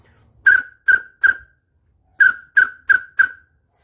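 Short, shrill toots from a homemade cork whistle sound in two groups, three then four, crisp and close with silence between.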